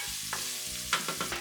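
Onions and the white part of spring onions frying for a beef tomato stew: close sizzling with a few sharp stirring scrapes near the end, no talk.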